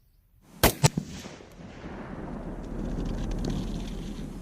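A single 6.5 Grendel rifle shot fired at a cooler outdoors at night: a sharp, loud crack with a quick second report, followed by a long, rolling echo that lingers and swells for several seconds.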